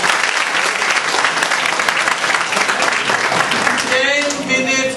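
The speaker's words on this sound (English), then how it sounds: "Now please give a round of applause." A seminar audience in Mumbai claps in a steady, dense round of applause for about four seconds, then it thins out as a voice starts talking near the end.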